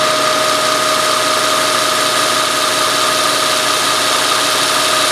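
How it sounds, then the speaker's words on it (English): South Bend toolpost grinder running with a freshly rebuilt spindle, its new bearings giving a steady, even whir with a faint tone of the belt underneath, continuous and close with no pauses. "All you really hear is just the whirl of the new bearings inside this spindle, and you know, a little bit of the belt itself"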